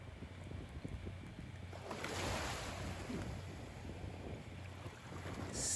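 Ocean surf on a Marco Island beach in Florida, a steady wash of waves and breaking water with wind across the microphone, continuous and fairly close, no voices.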